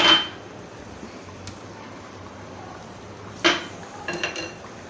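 Murg chana served from a pan, a metal spoon clanking sharply against the cookware, once at the start and again later, followed by a few lighter clinks in a quiet room.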